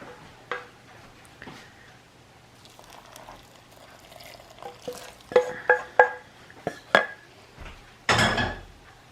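A spoon clatters and scrapes around a bowl as hot melted butter is stirred into a no-bake muesli bar mixture, with a string of close clinks followed by a louder rattling scrape.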